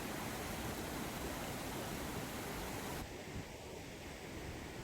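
Waterfall beside an onsen at the snow monkey park in Japan, a steady broadband roar of falling water close by, constant throughout with no voices.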